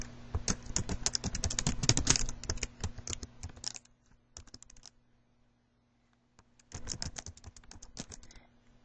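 Fingers type a password and email on a computer keyboard in quick, close bursts of key clicks, pausing for a few seconds before a final flurry of tapping.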